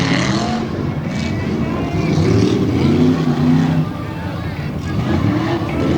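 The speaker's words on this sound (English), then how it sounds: "2 trucks on the track." Tough trucks race on a dirt track during a qualifying session in Lima, Ohio, a Chevrolet among them; steady loud engine drone with some tire noise fills the clip, under an announcer's running commentary.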